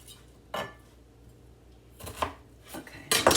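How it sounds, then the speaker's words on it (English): Knife chopping an onion on a cutting board while a pan heats on the stove, a few sharp separate chops spaced out, the last ones quicker and louder, with no talk. "Okay, let's chop the onion up."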